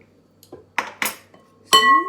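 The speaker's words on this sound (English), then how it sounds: "now I'm going to chop them up like this" A knife chops food on a board in a home kitchen, several separate sharp knocks with gaps between them and a final ringing clatter, close and clear with no talking.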